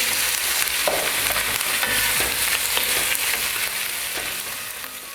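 Salted beef and pork ribs sautéing in a pot for a Brazilian feijoada, a loud, dense, continuous sizzle with occasional stirring knocks, easing slightly toward the end.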